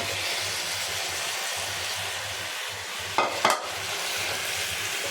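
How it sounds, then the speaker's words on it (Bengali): Arabian Sea fish frying in a pan with beans and spices, a steady close sizzle over a low hum, broken by two brief louder clatters as pieces go in. "বিনস দিয়ে মশলা কষানো হয়ে গেছে। এবার দিয়ে দিব মাছগুলা, দিয়ে দিই।"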